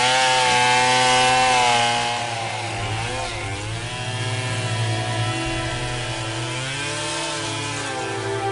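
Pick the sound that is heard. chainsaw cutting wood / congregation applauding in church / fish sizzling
chainsaw cutting wood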